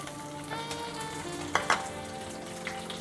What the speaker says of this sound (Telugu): కొంచెం పచ్చిమిరపకాయలు వేగేంత వరకు వేయిద్దాం.